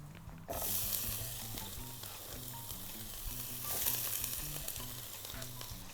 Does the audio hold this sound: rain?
no